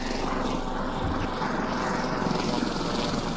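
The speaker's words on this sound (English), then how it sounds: "There's a helicopter" A helicopter flies in a video game, a steady, loud rotor and engine drone that fills the whole stretch without pause.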